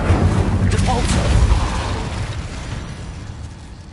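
A Depulso force spell blast in Hogwarts Legacy on PS4 in a cave, a deep booming whoosh with rumbling low end that decays over a few seconds, loud and close.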